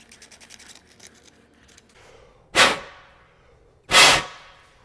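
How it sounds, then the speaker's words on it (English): Compressed air blown through a motorcycle handlebar to clear aluminum chips: two sharp, loud hissing blasts about a second apart, following quieter handling noises. "I'm going to blow the chips through."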